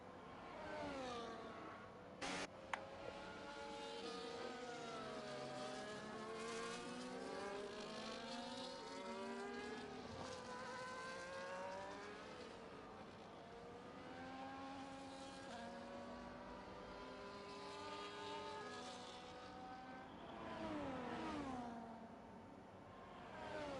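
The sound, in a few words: race cars overtaking in sim racing game, Baku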